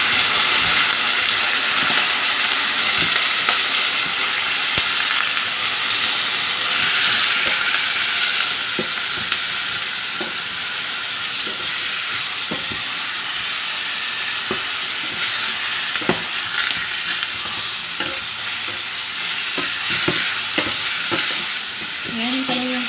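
Beef browns in a pot for stew, a loud, continuous sizzle with frequent stirring clatters and crackles across the whole stretch, no talking.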